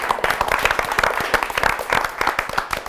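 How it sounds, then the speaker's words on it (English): A high school audience gives a round of applause to visiting radio hosts, brisk, dense clapping from a group of hands, fairly close and loud throughout the short burst. "A round of applause for you guys"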